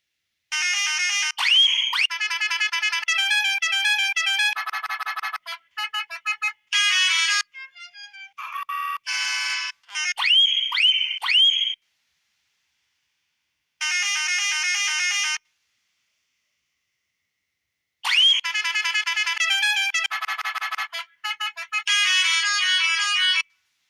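Custom musical air horn on a Scania truck plays loud, bright multi-note melodic phrases in separate bursts with silent gaps between them, some passages fast and chopped, others sustained, all close and clear with no talk.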